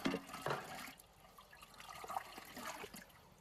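Water runs and trickles into an automatic float-valve water trough as the float drops, a steady nearby flow with gurgling swells and no talk.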